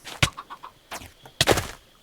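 Minecraft chick clucking in short, separate bursts, a couple of louder calls framing softer chirps, close and clear with no talk over them.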